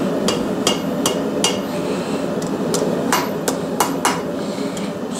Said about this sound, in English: I'm going to go ahead and use the horn of my anvil